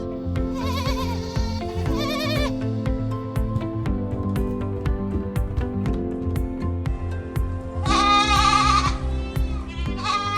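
Goats bleating on a farm at milking time, several loud quavering calls over a steady mechanical rhythm of machinery.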